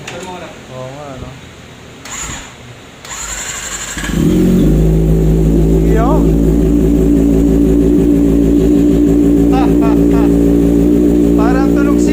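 A Kawasaki ZX25R four-cylinder sport bike with an R9 full titanium exhaust fires up after a moment of talk, then holds a loud, steady high-pitched idle and rev close by, with short shouts and chatter over it.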